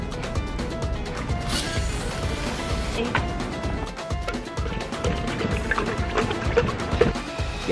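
Water from a garden hose rushing into a giant Wubble Bubble ball outdoors, a loud continuous splashing, gurgling flow with irregular slaps and knocks throughout.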